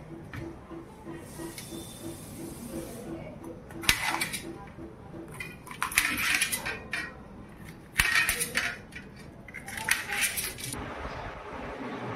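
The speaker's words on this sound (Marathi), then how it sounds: "आपण आधी भाजी कट करून घेऊया." Knife chopping washed mixed vegetables for a bhaji on a board, sharp scattered clicks and taps, some louder strikes, in a quiet kitchen with a faint background hiss.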